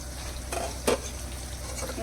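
Tripe curry frying in a pan, a steady soft sizzle running throughout with a brief louder stir or scrape near the middle, close and alone without talk.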